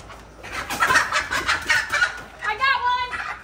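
Chickens cluck and squawk in short bursts up close, the calls rising in a rapid flurry, with people talking alongside.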